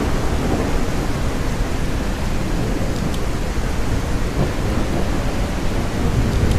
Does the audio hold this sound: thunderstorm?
yes